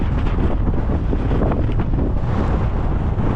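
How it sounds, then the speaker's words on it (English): Strong wind blows outdoors near a beck in the hills, a constant loud roaring rush buffeting the microphone, with no voices. "You can see the trees blowing around in this wind."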